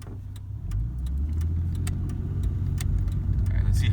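A 1998 Ford Explorer XLT, used as a daily driver, tow rig and off-roader, drones steadily while driving, its low engine hum building slightly and holding under faint road noise.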